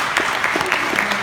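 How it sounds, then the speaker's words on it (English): A school-board audience claps for a staff member named Nancy Cobb, a short burst of steady applause filling the room throughout. "big round of applause"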